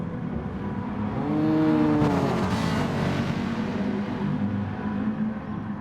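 A GT4 race car engine at Interlagos in a sim racing championship revs and accelerates, its pitch climbing steadily and then holding a loud, continuous drone under a busy background of other cars.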